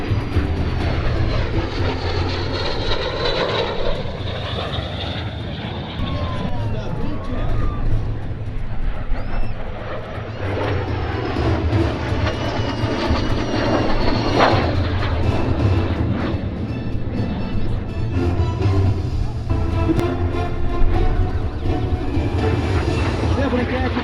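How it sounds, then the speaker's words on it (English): An L-39 Albatross jet, painted pink, makes a loud roaring flyby at an airshow, its engine rumble and rushing turbine noise sweeping past and sustaining heavily for the whole stretch. "The aircraft is an L-39 Albatross."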